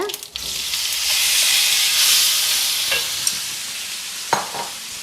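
Potatoes with turmeric for aloo sabji fry in a hot pan, a loud close sizzle that is stirred now and then with a few sharp scrapes and taps.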